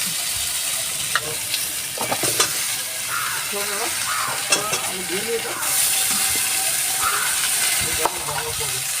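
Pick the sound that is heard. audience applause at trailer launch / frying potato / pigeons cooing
frying potato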